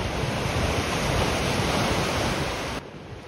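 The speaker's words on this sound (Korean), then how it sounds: "오늘 바람이 별로 없는데도 파도가 제법 세네요." Strong ocean waves break on a Korean coastline near a walking path, making a dense, continuous roar that stays loud throughout and drops slightly at the very end.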